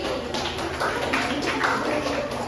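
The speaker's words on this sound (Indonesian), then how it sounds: "tepuk tangan dulu dong untuk Sally." A classroom of students claps for a classmate in an elementary school math lesson, a busy patter of many small hands at moderate loudness, with a faint voice under it.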